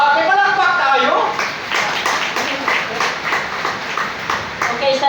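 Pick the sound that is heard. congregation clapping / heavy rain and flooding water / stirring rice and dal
congregation clapping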